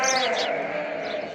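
A Tatalı-breed sheep or lamb in a flock of ewes and lambs gives one drawn-out, wavering bleat close by, lasting the full moment and tapering off at the end.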